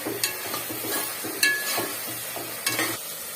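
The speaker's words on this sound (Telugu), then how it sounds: "టమాటా మంచిగా మగ్గాలి, మగ్గితే బాగుంటుంది. ఇలా మొత్తం మగ్గిపోవాలి." Tomatoes cooking down in a pan for tomato rice, with a soft steady sizzle and several scraping stirs of a spoon against the pan, close and moderately loud, no talking.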